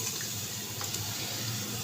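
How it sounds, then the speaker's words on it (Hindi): Reserved chickpea cooking water is poured into a pot of chana curry, a steady close liquid rush and splash lasting under two seconds with no talking. "वही पानी अब मैं इसमें ऐड करूंगी"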